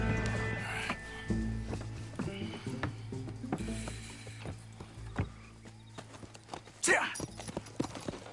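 Horse hooves clip-clop in the Red Dead Redemption 2 video game, quiet and irregular steps mixed with creaking and rattling tack, while voices talk and a louder burst comes near the end.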